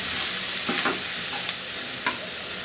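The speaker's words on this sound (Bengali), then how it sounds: "আমার পেঁয়াজ রসুনগুলো ভাজা হয়ে গেল" Onions and garlic fry in a pan for a rohu fish and coriander mash, a close sizzle broken by a few scraping stirs of a spoon, with no voices.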